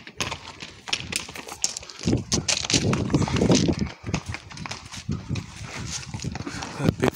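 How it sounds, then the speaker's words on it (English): Several horses carrying goods clop along a rocky trail in Samaria Gorge, Crete, their hooves making a dense irregular clatter that rises and falls, with walkers' footsteps and faint voices mixed in. "Oh, it's horses, not donkeys."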